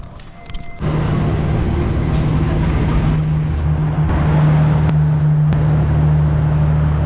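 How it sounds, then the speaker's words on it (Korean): A train pulls into a station platform in Indonesia on the Probolinggo–Banyuwangi route. After a brief quieter opening comes a loud, steady engine rumble with a droning low hum. A few sharp clicks cut in toward the end. "기차 들어왔어요"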